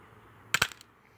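A cheap plastic airsoft revolver fires a single shot, heard as a short sharp snap with a quick rattling follow-up, close by and otherwise quiet.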